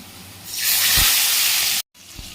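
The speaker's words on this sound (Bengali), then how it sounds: "কড়াই তেল দিয়ে দিয়েছি, এবারে এইগুলো হালকা করে ভেজে নেব।" Loud, steady sizzling hiss of pomfret fish frying in hot oil in a wok, building quickly and holding, then a brief cutoff before the sizzle resumes.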